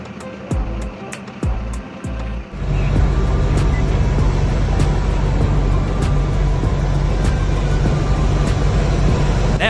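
A 2,300-horsepower mining truck at full throttle in mud, its engine starting after a few sharp knocks and then holding a loud, deep, steady roar close by.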